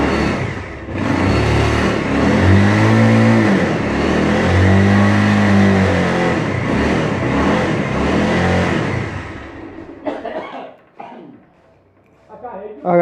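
A Bajaj Pulsar 150cc motorcycle is started on its electric self-starter and left running, a loud, close engine note with rising revs that cuts out near the end. Someone talks over it.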